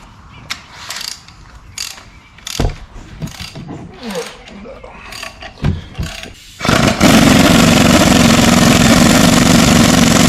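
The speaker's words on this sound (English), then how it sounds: "We're going to need a ratchet." A ratchet wrench works on a 5.3 LS V8 engine in a workshop, giving several short bursts of rapid clicking with pauses and tool clatter between, then a loud continuous hiss or whir in the last few seconds.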